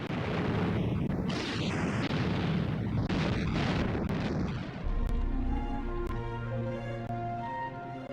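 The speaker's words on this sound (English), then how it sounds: "The Soviet T-34s drove into the German lines and opened fire at point-blank range." Soviet T-34 tanks fire at point-blank range in World War II combat against German lines, heavy booming blasts and rumble over the first half, followed by lighter sharp cracks.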